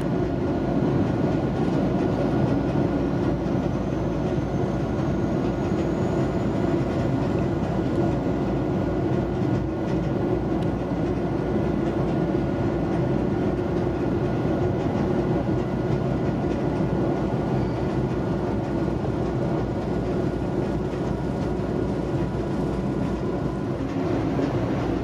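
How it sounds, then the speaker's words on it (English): Onboard a Metrolink Arrow Stadler FLIRT commuter train in motion, a constant low rumble and hiss fill the cabin evenly from start to finish, with no talking. "my first time riding on a Stadler FLIRT type commuter train"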